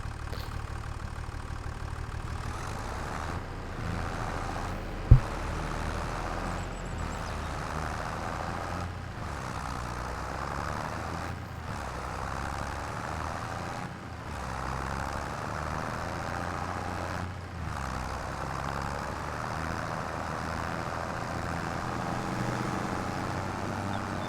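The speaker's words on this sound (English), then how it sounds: "I feel like this tractor has 27 gears. I feel like I'm driving a semi." A tractor engine in Farming Simulator 25 drones steadily while driving, broken by repeated brief gaps as it shifts through gears, with a single sharp knock early on. Heard close with no voices.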